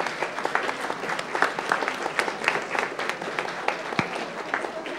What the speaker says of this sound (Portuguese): E vamos aplaudir as três equipes